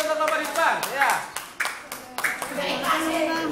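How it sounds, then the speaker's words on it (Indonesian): Classroom applause for a group presenting in front of the class, bursts of clapping from students mixed with children's voices and chatter, fairly close and lively. "Tepuk tangan untuk kelompok di depan."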